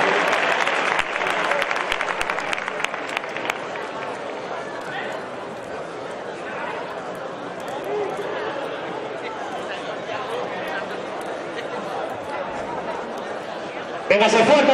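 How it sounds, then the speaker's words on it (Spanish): A crowd applauds for the recortadores at a Castellón bull-leaping ring event, sustained clapping mixed with chatter and a loudspeaker voice, continuing steadily before a brief louder surge at the end. "ese fuerte aplauso para los recortadores"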